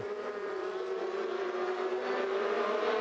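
FormulaMaster single-seater race cars at Imola climb through the Villeneuve chicane, a continuous high-pitched engine whine holding steady and loud throughout.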